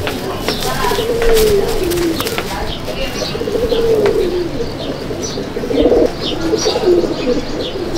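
Madrasi (Chennai) pigeons coo repeatedly in a pigeon loft at Andul, Howrah, with nearby chirps and occasional voices talking in the background.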